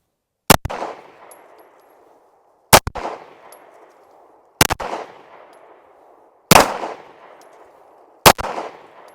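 Five sharp, loud pistol shots from a Caracal Enhanced F at a shooting range, evenly spaced about two seconds apart, each followed by a short ringing echo.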